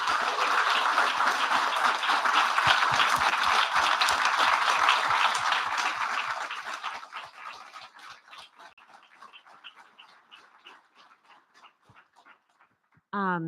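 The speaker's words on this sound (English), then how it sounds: "Maybe we can have one final round of applause for." An audience at a panel of movement elders applauds in a dense, sustained round that thins into scattered individual claps and fades out over several seconds, with a brief voice at the very end.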